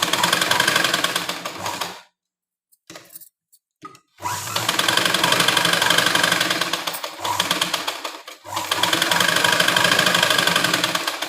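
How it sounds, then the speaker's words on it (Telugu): A sewing machine runs in quick, loud bursts while stitching a fabric seam for a small child's saree-style lehenga. It stops briefly for about two seconds, then whirs on with short pauses. "ఇప్పుడు తిప్పే కుట్టు వేసుకుందాం"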